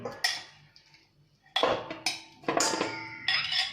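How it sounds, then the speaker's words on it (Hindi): Pieces of mutton are dropped into a metal cooking pot in a home kitchen, giving several loud clanks and clinks in separate bursts with short quiet gaps between them. "अब हम एक बर्तन लेंगे और इसमें मटन को डालेंगे।"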